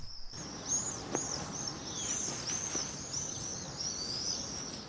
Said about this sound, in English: the marvellous sort of screaming they make as they fly around the churchyard and through the arches